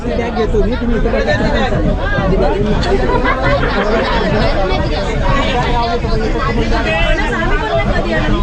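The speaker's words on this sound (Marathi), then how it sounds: "भरपूर गर्दी आहे" Loud, dense babble of many voices packed inside a crowded Konkan Railway passenger train in monsoon season, with overlapping conversations close by and no pause throughout.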